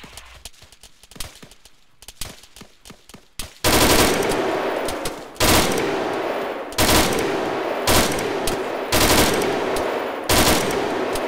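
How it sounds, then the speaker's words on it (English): Sustained machine-gun bursts in an Arma 3 firefight, loud and close, beginning after scattered lighter shots and then repeating as long rattling volleys with brief pauses between them. "Alright, you're clear to open fire."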